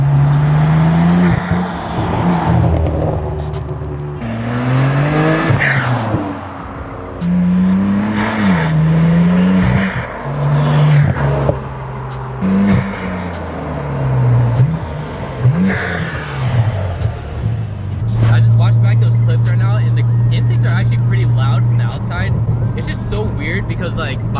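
A BMW F80 M3 with front mount intakes revs and accelerates past several times, its engine note rising and falling, then settles into a steady drone. People talk over it throughout.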